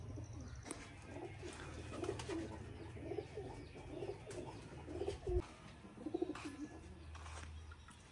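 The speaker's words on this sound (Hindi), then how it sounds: "अपने किंग कबूतर को।" Soft pigeon cooing repeats in a low, murmuring rhythm, fairly close, with faint chirps and rustling in the background.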